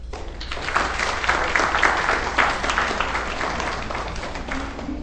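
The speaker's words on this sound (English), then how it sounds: "I think you deserve a round of applause." An audience in a temple breaks into applause, a dense, steady patter of many hands clapping for several seconds with a few scattered cheers, close and full throughout.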